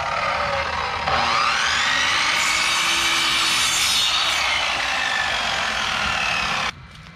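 A saw grinds through a dense piece of wood during a Victorian house restoration, a loud, close, rasping cut that runs steadily for several seconds and then stops abruptly.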